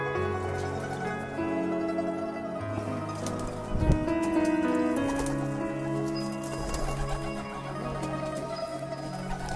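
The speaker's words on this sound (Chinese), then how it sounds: "这是早上拿出去的小鸽子，还没进来，这就是学飞翔的" Young pigeons in a loft coo and rustle softly close by, with low throaty calls and light pattering movement and no speech.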